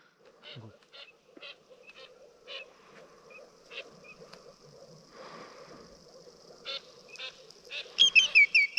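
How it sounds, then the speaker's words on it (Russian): A male tufted duck flies close by outdoors in spring, giving a series of short nasal calls that grow louder and denser toward the end, with faint background noise. "Хохлатая чернить летает. А садиться не хочет."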